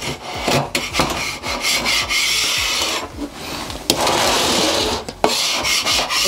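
A spatula scrapes hardened spilled molasses off the bottom of a cupboard shelf in rapid, gritty strokes, close and loud, with brief pauses between bursts of rasping.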